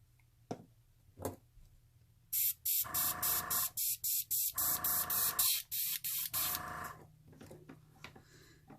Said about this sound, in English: I'm just using the airbrush to dry it